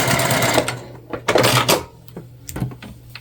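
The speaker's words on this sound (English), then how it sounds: "I'm gonna switch up the angle and then sort of speed sew" A sewing machine speed-stitches swimsuit fabric into a scrunchie, running in loud close bursts with short pauses and soft handling clatter between stitches.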